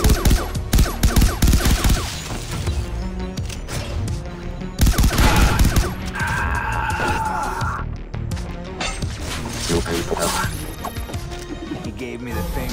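Gunfire and crashing impacts in Far Cry 3 Blood Dragon, loud and dense, with bursts of shots and smashing hits layered over game music and effects across the whole stretch.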